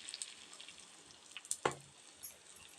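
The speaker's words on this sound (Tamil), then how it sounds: "சீரகம் மிளகு நல்லா பொரிஞ்சிச்சு" Cumin, pepper and curry leaves frying in oil for malli pongal, giving a faint, soft sizzle and crackle with one sharper pop partway through.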